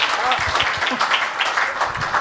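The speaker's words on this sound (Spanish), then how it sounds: "Un aplauso" Close, loud audience applause at an international medical conference session, a dense continuous clatter of many hands with a faint voice briefly underneath.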